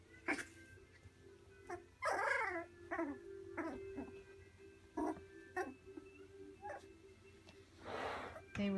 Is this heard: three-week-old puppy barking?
yes